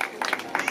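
Audience clapping at a Christmas tree celebration, a short burst of scattered, moderately loud hand claps with crowd murmur underneath.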